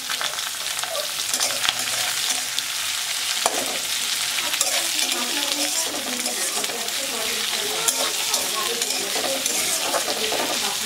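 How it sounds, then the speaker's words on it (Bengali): Onions frying in a pan for a Bengali chicken curry, giving a loud, continuous crackling sizzle with constant stirring scrapes close by, and no talk. "এবার দেয়া হচ্ছে পেঁয়াজ।"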